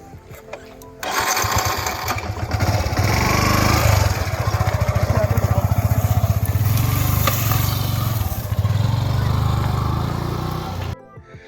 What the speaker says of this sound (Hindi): आइए मैं आपको लेके चलता हूँ बाइक राइड पे